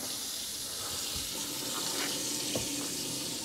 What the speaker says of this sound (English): We'll go ahead and turn back on the water.